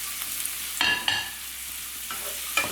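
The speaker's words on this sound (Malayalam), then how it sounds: "ഇനി സവോള ഒന്ന് വഴറ്റിയെടുക്കുക" Onions sautéing in a hot pan, giving a steady close sizzle with a few short scraping stirs breaking through.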